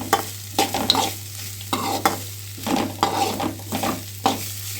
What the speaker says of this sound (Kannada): ಕೈ ಆಡಿಸೋಣ